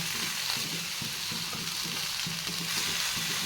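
Vegetables for Bengali shukto fry in a pan with a dense, steady sizzle and rhythmic scraping strokes as they are stirred, close and continuous throughout with no speech.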